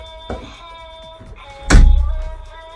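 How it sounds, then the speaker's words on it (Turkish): A door swings shut at home, landing as a single loud thud with a short rumble after it, following a quieter knock a moment earlier. "kapıyı ört"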